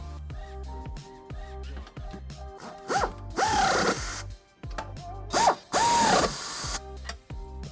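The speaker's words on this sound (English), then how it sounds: "with our nuts in place and hand tight, we can snug them up using an 11/16 socket" A ratchet with an 11/16 socket snugs up trailer hitch nuts on a 2014 Kia Optima, rapid close clicking strokes broken by pauses, with two longer rasping bursts of ratcheting.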